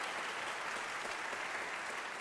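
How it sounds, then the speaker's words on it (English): An auditorium audience at a Tuba Christmas concert at Stambaugh Auditorium claps in a dense, even round of applause, steady and moderately distant for a couple of seconds. "Let's have a round of applause for the staff here at Stambaugh Auditorium for making things accommodating for us."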